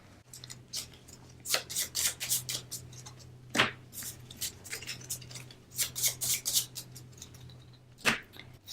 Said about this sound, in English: Shuffle these player decks.